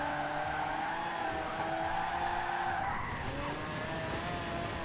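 A monster truck drifts in the racing game Forza Horizon 4, its tires screeching in a long, continuous skid over a steady engine drone, with no voices.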